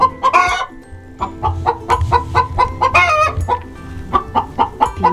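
Chickens cluck repeatedly up close in short, rhythmic bursts, with a few louder squawks mixed in.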